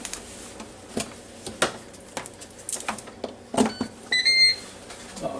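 A short electronic beep, a few rapid high tones, from a Ninja Foodi Deluxe being plugged in, after scattered clicks and soft clatter from handling the appliance nearby.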